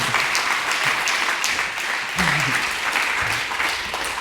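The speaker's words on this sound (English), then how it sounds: "please welcome on stage with an amazing applause, Randy Shoup." Conference audience applauds a speaker walking on stage, dense sustained clapping filling the room throughout, with a few faint voices mixed in.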